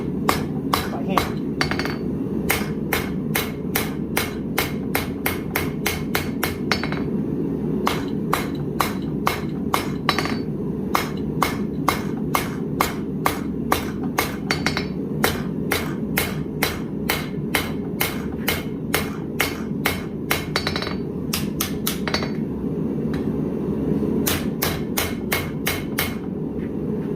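A forged seax knife blade is hand-hammered to a taper with sharp, ringing metallic strikes in a steady rhythm, with brief pauses between bursts of blows, over a constant background hum.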